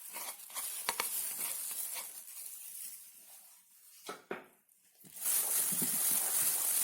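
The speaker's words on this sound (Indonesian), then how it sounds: "Kita aduk hingga tercampur rata." Ground spices being stirred with a little water for tahu aci batter, a wet, soft swishing and patter of the spoon in a bowl, close and fairly quiet, pausing briefly before a brighter, louder stretch of mixing at the end.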